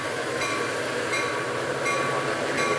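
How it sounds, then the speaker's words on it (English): An out-of-service Coaster commuter train rumbles steadily past nearby at Oceanside Transit Center, with rhythmic clicks of wheels over rail joints, loud and continuous for the whole stretch. "here comes an out-of-service coaster about to head towards the yard"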